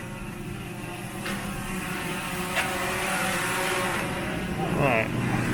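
A camera drone flies during an exterior-to-interior transition test, its steady whining hum with strong tonal bands running throughout under faint talk.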